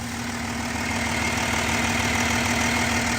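A car engine idles steadily with a low, even hum and faint rattle, close and constant throughout with no voices.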